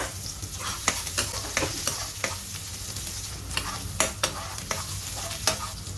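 Garlic and onion sauté in annatto oil for octopus adobo, a soft constant sizzle broken by sharp, regular spatula taps and scrapes against the pan, close and alone.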